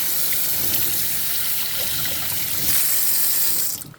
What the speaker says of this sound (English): Cool water on hot glass.